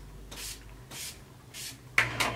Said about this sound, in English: So I'm going to set all that with my Urban Decay All Night Setting Spray.